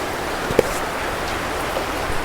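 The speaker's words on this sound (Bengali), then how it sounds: "বাইরে বৃষ্টি হচ্ছে আজকে" Rain falling outdoors, a steady even hiss of moderate loudness with a faint single knock, heard alone without voices.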